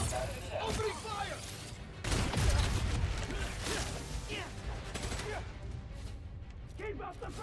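Bursts of enemy gunfire crackle through a chaotic Spider-Man: Miles Morales fight, mixed with crashes, whooshes and mechanical clatter, loud and close, while game voices shout over the action.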